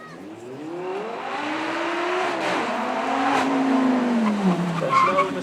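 Lamborghini V10 supercar on a track at a supercar weekend event, engine note rising and falling through gear changes as it passes fairly close, with faint tyre noise and no talking.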